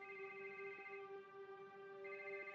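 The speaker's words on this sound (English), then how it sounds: "When the phone finally rang," A telephone rings steadily at home while a call about a child's leg is awaited, a sustained electronic ring tone with bright harmonics that pulses slightly louder at the start and end, heard alone at moderate volume.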